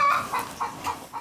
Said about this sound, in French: Dans cet enclos logent des coqs de race et d'autres espèces de volailles et de caprins.